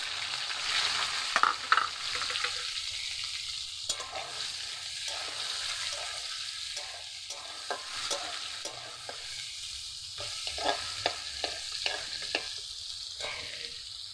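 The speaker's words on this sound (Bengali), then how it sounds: "পেঁয়াজ কাটা আছে, দিয়ে দিচ্ছি।" Chopped onions are frying in a pan for a chicken and cauliflower curry, giving a loud, continuous close sizzle that swells at first and then settles, with occasional stirring scrapes.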